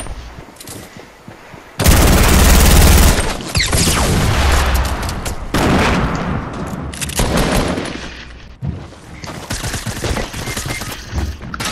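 Loud, close gunfire in the video game Fortnite: dense bursts and sustained rapid volleys with sharp cracks and booms, continuing across most of the stretch with only brief lulls.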